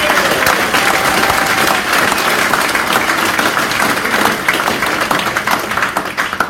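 Dense, lively audience applause at a live motorcycle-racing talk show at Cadwell Park, loud and continuous throughout with scattered claps standing out near the end.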